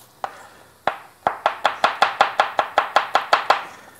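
A knife chops garlic cloves on a cutting board, loud and close, in a steady run of about fifteen sharp knocks after two separate opening strikes, with no talking.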